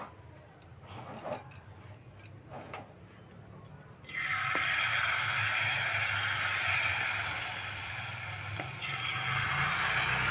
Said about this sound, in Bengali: এবার আমি জিলিপিগুলো ভেজে নেব।